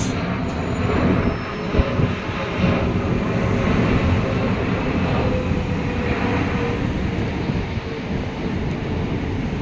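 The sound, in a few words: large passenger plane flying overhead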